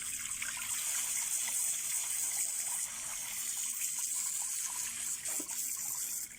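Water runs steadily over the trunk of a tiger bark ficus bonsai, a close, continuous hiss and splash of a stream that holds throughout.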